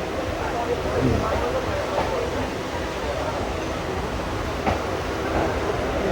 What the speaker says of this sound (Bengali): এবারে ট্রেনটা ঢুকছে বিবাদী বাগের স্টেশন